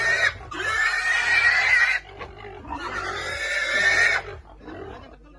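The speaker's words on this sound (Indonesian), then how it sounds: "Setelah menangkap dan menimbang babi" Pigs being caught and weighed by local pig farmers, giving two long, loud squeals close by, separated by a short gap, followed by a softer grunt.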